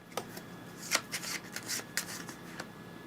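Cards being shuffled during a Rome & Roll Gladiators board game, a series of quick riffling and flicking bursts close by, soft and papery, over steady room hiss.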